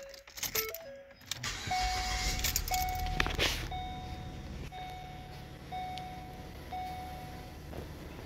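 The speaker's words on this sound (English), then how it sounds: "Let's quickly verify that our wiring works by turning the ignition on" A car's ignition is switched on with a short jangle of keys, and a hardwired dash cam beeps in a series of regular electronic tones above a low, quiet hum.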